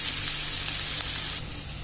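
Dal tadka ingredients frying in a pan, a steady bright sizzle that carries on without a break and drops a little in loudness toward the end.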